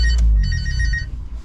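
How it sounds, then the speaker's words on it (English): Mobile phone ringtone ringing in a car interior over a steady low engine hum, a melodic repeating tone pattern lasting about a second before fading under the running engine of a supercharged Toyota Corolla T-Sport Compressor. "his phone's ringing."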